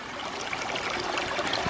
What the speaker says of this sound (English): It's a spillway that pulls all the water back into the flume